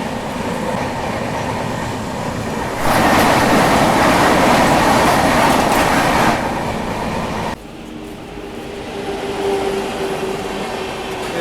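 The Rewa–Rani Kamlapati Vande Bharat Express rushes past at a station, a loud, steady roar of wheels and rushing carriages that swells for several seconds and then cuts away to a quieter rolling rumble.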